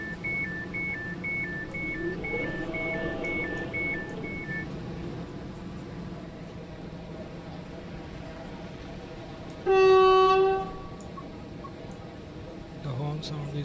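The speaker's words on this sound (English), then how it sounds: "The horn sound is also quite good" A Class 710 train in Train Sim World 5 sounds its horn in one short, loud, sustained blast partway through. The horn cuts above a steady rumbling cab ambience, and a repeating beeping tone comes earlier.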